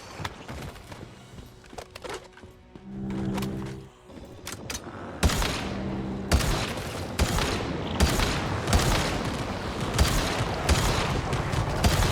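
Rapid gunfire from a high-capacity gun in the survival shooter Once Human, with dense bursts of shots running through most of the stretch, loud and close, with brief pauses between volleys.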